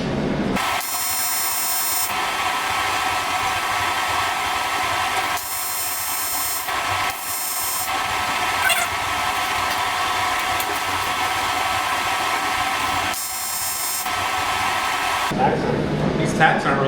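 A TIG welder tacks aluminum at 55 amps with a 25-amp start. Its arc buzzes and hisses in several bursts, some long and some brief, over a constant loud background drone.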